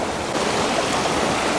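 A river rushes and churns close by in a steady, full roar of flowing water, loud and continuous without any voices.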